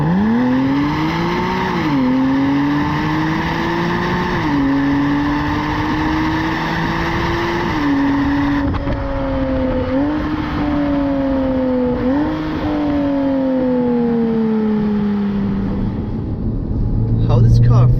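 A Porsche Boxster S engine in Sport Plus mode with the sport exhaust open revs and roars loudly through repeated gear shifts, pitch climbing and dropping in waves, with exhaust crackle near the end.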